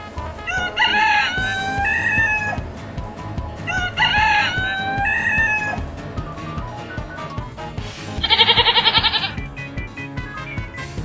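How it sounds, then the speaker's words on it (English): A rooster crows loudly twice in drawn-out cock-a-doodle-doos, with a bleating goat or sheep cry near the end, all over a steady backing beat of music. "Rooster."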